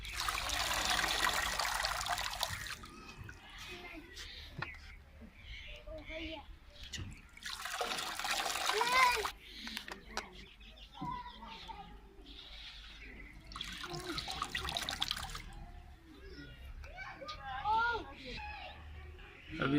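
Running water splashes and trickles over mustard greens (saag) being washed by hand, rising in loud broadband bursts that fade between, with a voice talking over the washing.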